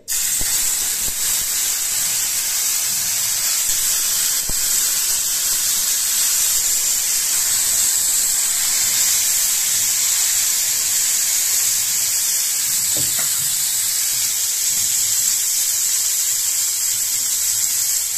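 Pieces of fish are fried in hot oil in a pan, giving a loud, steady, unbroken sizzle and hiss that carries on alone without talk, with only a few faint clicks.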